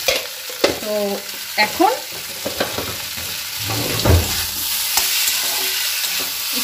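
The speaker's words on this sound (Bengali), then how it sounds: "একটু নাড়াচাড়া দিব।" Sweetened food is stirred in a frying pan with a steady sizzle and scraping strokes, close and fairly loud, with someone briefly speaking and another voice chiming in over it.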